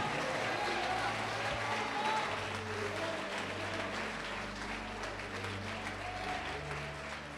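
Church congregation applauding in praise during a sermon, a steady wash of clapping from a large crowd that fills the space throughout, with voices and cheers mixed in.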